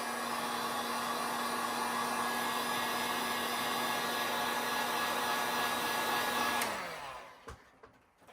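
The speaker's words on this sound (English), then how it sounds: "So the heat gun will take out any bubbles" A heat gun blows steadily over resin poured with polymer clay for DIY coasters, a loud continuous airy roar with a faint tone that runs for about seven seconds, then cuts off and winds down, leaving light handling noise.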